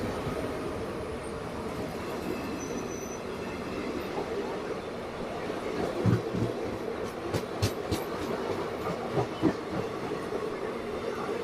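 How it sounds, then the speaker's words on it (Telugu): The Okha to Shalimar express pulls out of an Indian railway station, heard from the platform as a moderate rolling rumble that grows busier, with a run of sharp wheel-on-rail clicks and thumps toward the end. "ఇప్పుడైతే ఓకా నుండి షాలిమార్ వైపు వెళ్ళే ట్రైన్ అయితే బయటకు వస్తుంది"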